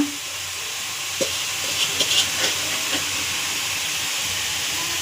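Grated carrots frying in ghee in a pan give a steady, broad hiss with a few faint clicks and knocks, and no talking is heard.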